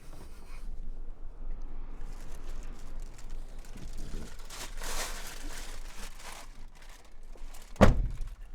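A single solid thunk from the door of a 1995 Toyota Land Cruiser 4.2 turbo diesel, Active Vacation Edition, shutting near the end, after several seconds of low, steady background noise.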